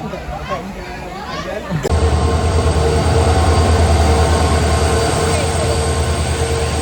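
Loud, steady rumble of a moving train heading to Kalyan, heard from inside a carriage, with rattling wheels and a sudden jump in noise, people talking faintly underneath.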